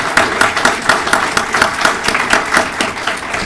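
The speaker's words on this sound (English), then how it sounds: "So let's give all of these a round of applause." A conference audience applauds steadily and fairly close, with a dense run of clapping that rises and falls in soft waves and has no talk over it.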